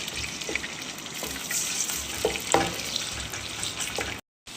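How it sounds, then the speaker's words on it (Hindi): Garlic and ginger, a tablespoon of each, frying in a pan for a black pepper mutton gravy: a continuous close hiss and crackle with a few light stirring knocks, then a brief cut to silence near the end. "इसको थोड़ा सा फ्राई करेंगे इसकी खुशबू आने तक।"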